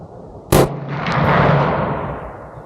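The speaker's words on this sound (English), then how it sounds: "So here we go. First shot." A single loud, sharp rifle shot from a Bear Creek Arsenal rifle in .450 Bushmaster booms nearby outdoors at a range, followed by a long echoing rumble.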